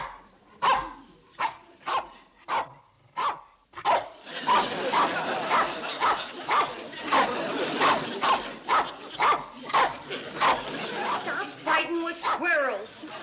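A dog barks in a quick, regular series of sharp barks, then keeps barking steadily beneath a stretch of continuous background noise in a classic television comedy scene, with yips near the end.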